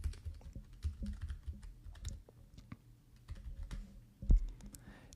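Rapid keystrokes on a computer keyboard while comments are typed into a project template, steady clicking bursts throughout with one louder tap near the end, close and fairly quiet, no talk.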